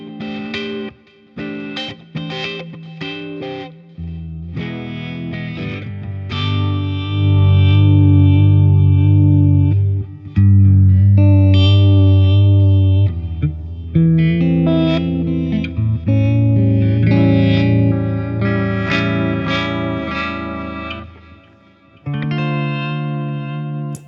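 A heavily distorted electric guitar plays chords and notes through a Kraut Rock phaser effect, swirling, loud and sustained with brief gaps between phrases.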